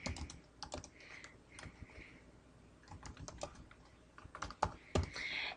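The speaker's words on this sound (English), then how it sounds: "So it's just a matter of typing out the information." Computer keyboard typing while notes are entered for a course storyboard in Lectora and PowerPoint, with irregular bursts of quick, close keystrokes and short pauses between runs.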